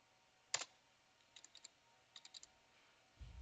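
Typing a command on a computer keyboard at a router console: a few short clusters of faint clicks in a quiet room, with a soft low thump at the end.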